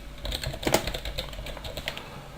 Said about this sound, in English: if I type some text in on this screen